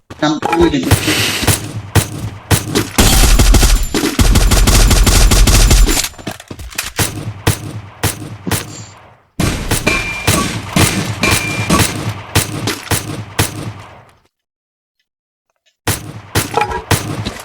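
Rapid automatic gunfire and sharp single shots from the Free Fire video game, loud and close, in dense bursts broken by short pauses and one brief silent gap, with faint talk mixed in.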